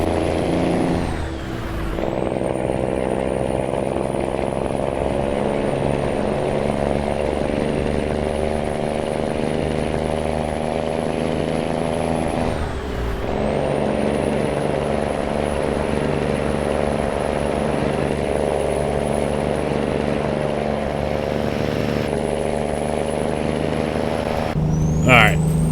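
A Volvo VNL 670 truck engine in American Truck Simulator drones at a steady, loud rumble with a high whine on top, dipping briefly at two gear shifts before pulling on.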